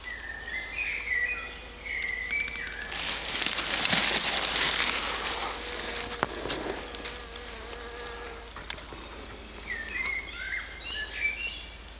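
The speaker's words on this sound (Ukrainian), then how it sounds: "Досить нечасто побачиш медоносну бджолу, працюючи на конваліях." A honey bee buzzes steadily and close by while working lily of the valley flowers, with birds chirping intermittently in the background.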